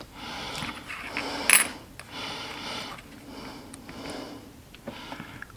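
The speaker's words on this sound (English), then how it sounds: "This is a spring-loaded punch. And all I do is press down, and it puts the punch exactly in the right spot." A spring-loaded punch is pressed down to mark brass for an SCA collar, giving a sharp metallic snap amid quieter handling and scraping, close by, with no talking.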